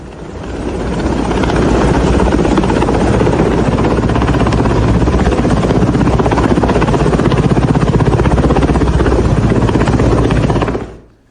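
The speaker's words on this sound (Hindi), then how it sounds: "ये हेलीकॉप्टर देख रहे हैं आप, ये हेलीकॉप्टर बुलाया गया" A helicopter hovering during the rescue of a youth stranded on a water tank, its loud continuous rotor thrum and engine roar dominating close by for about eleven seconds before cutting off abruptly.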